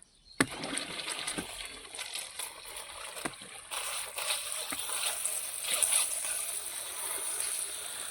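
Water flows and splashes after an irrigation valve is opened in a field during rain, with a sharp knock near the start, then a continuous gurgling rush that grows slightly fuller, close by and alone.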